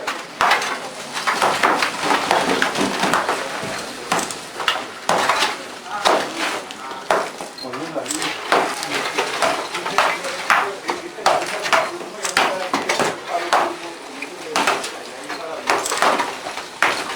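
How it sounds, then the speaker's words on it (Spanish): Quarry workers breaking quicklime rock with a sledgehammer, sharp irregular cracking strikes and clinks repeating throughout at fairly close range, loud and busy. "los operarios deben fragmentar aún más la roca, generando un picado con almadana"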